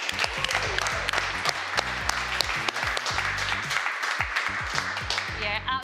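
An awards ceremony audience for a digital marketing campaign prize applauds and cheers loudly and continuously, dense clapping filling the whole stretch with a few whoops rising above the crowd.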